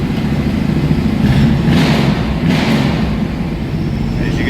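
A 1969 Chevrolet Camaro Z/28 engine sits at high idle after a cold start, producing a loud, steady low rumble with a couple of brief swells in the middle.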